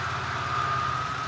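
A loud car V-drive screeching while driving, with a sustained high whine riding over a heavy, throbbing engine drone, close and constant throughout the short stretch.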